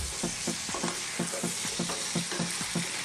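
Zucchini and tomato stew sizzles loudly in a pan on high heat with the lid off, a steady frying hiss broken by regular stirring scrapes roughly every quarter second.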